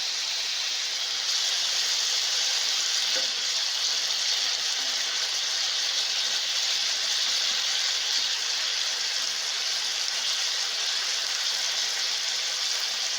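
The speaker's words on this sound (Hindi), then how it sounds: "अब हम इसे 8 से 10 मिनट तक दरमियानी आंच पर पकाएंगे ताकि चिकन अंदर से गल जाए।" Marinated chicken frying in a pan over medium heat, a steady, even sizzle that holds at the same loudness from start to finish, with no talking.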